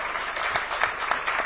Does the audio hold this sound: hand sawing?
no